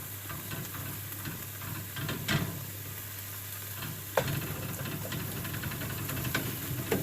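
Food for chili sizzling in a hot pan, a soft steady fry with scattered stirring clicks and scrapes and a low hum underneath, fairly quiet and close.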